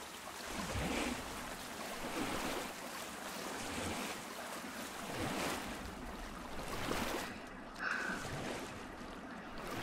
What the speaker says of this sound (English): Cause I guess it's the water bouncing off the wall like this,